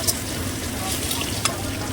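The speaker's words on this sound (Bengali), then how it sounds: "চিংড়ি মাছটা ভালো করে ভেজে নিচ্ছি" Prawns frying in hot oil in a pan, producing a steady close sizzle with occasional sharp pops and a soft stirring scrape, alone without talk.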